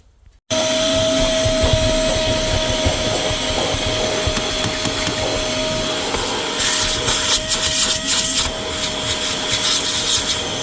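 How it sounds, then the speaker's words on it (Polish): A vacuum cleaner starts abruptly and runs steadily with a whining motor tone while cleaning a car interior, its nozzle scraping and rubbing against surfaces in irregular rasping bursts, loud and close throughout. "Biorę się za odkurzacz, łapię i lecę z tematem."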